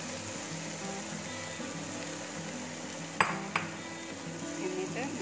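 Chicken being stirred into sautéed onions in a metal pan, a steady low sizzle with two sharp utensil clinks against the pan midway and softer scraping near the end.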